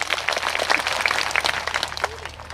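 An audience at a community gathering claps in brisk, steady applause for a few seconds, moderately loud and unbroken by talk.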